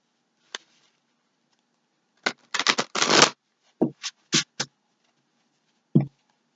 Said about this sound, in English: boy, it makes it hard to shuffle